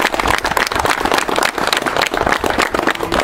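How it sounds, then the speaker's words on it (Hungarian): Wedding guests applaud right after the newly married couple kiss: dense, continuous clapping from a close crowd that stays loud for its full length. "mi tapsolunk"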